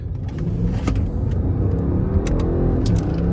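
A tuned V8 BMW accelerating hard in paddle shifter mode, its engine a loud, continuous roar heard from inside the car, with a few sharp clicks and rattles on top.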